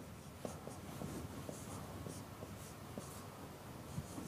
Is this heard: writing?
yes